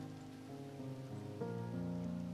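Rain falls in a steady, soft patter that continues throughout, heard beneath a layer of sustained music with no talking.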